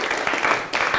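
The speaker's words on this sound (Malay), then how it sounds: "Beri tepukan untuk kumpulan 1." A Year 6 science class gives a quick round of applause for a group, a brief burst of many hands clapping with a short dip before it resumes.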